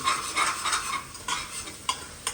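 A biryani masala mixture is stirred in a pan with a steady scraping, shuffling rhythm and a few sharper knocks of the spoon against the metal, close up and with no voices.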